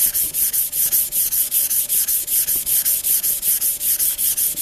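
An old paring knife's steel being ground on a sharpening stone, with a regular back-and-forth rasping stroke repeated about five times a second, close and steady with no talking.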